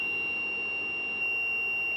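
A small power inverter's low-voltage alarm sounds as its supply voltage drops: a steady high electronic tone without pause, a continuous piercing whine that stays loud and constant with a faint hum beneath it.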